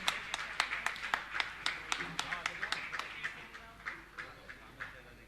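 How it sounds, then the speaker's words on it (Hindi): An audience at a Jain religious gathering claps to honour newly welcomed trustees, a series of distinct, fairly soft claps in a loose rhythm that slowly thins out, with a voice talking in the background. "आप ताली बजाकर इनका सम्मान करें।"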